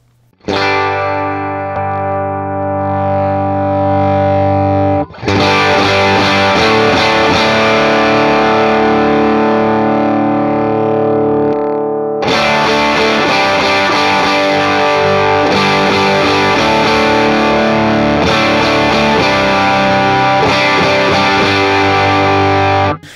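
Loud, saturated electric guitar chords through a Jackson Audio Golden Boy boost pedal driving a tube amp ring out in long sustained strums, growing thicker and brighter after each new attack, with no talking.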